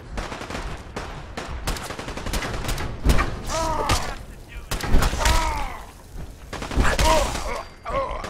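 Rapid bursts of laser rifle fire from the Fallout video game, repeated volleys with sharp zapping sweeps and thuds, loud and close, with occasional exclamations between shots.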